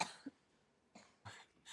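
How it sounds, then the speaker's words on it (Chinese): A woman coughs in short separate bursts, one at the start and a few more spaced through the moment, close to the microphone in a quiet room with no talk. "怎么老咳嗽啊？"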